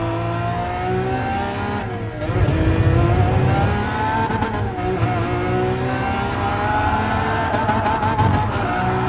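Lamborghini engine in a racing video game, revving loudly and continuously with jumpy, rising and falling pitch sweeps through gear changes, a brief dip then a surge of power, with hints of tire squeal.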